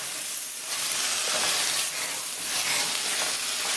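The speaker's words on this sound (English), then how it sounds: "I'm going to hit it with the salt as well as the brown sugar and stir that around first" A shrimp and butternut squash curry pot hisses and sizzles steadily as salt and brown sugar are stirred in, a broad, close, unbroken frying wash with soft swells of stirring.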